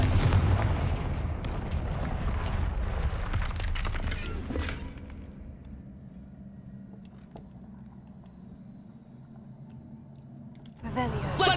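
Confringo blasting spell explosions in the Hogwarts Legacy video game: loud booming blasts and crackling debris in a dense game mix, settling into a quieter rumble before another burst at the end.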